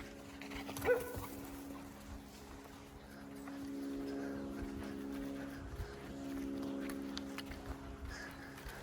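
Dogs on a run whimpering and letting out a few short barks and yips, close but fairly faint, over steady background hum and movement noise.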